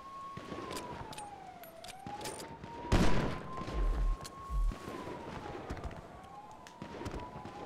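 Gunfire crackles and booms in a shooter video game, with a wailing siren sweeping up and down underneath and a cluster of heavy blasts and rapid shots in the middle, all fairly loud and close.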